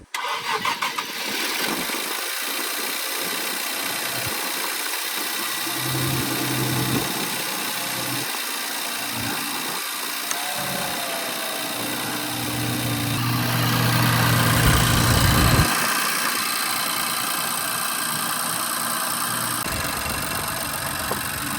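A 2019-or-later Infiniti Q50 cranks and fires, then settles into a steady idle with fresh serpentine belt fitted, the engine hum continuous and moderately loud with slight rises in revs, no talking.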